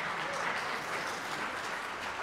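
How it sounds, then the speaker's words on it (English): Congregation applause at an Advent festival church service, a dense, even burst of clapping filling the whole short stretch without talk. "A round of applause."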